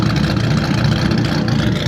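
A Dodge Viper idles at a car show, warming up with a steady, loud, low rumble that holds even and unbroken throughout.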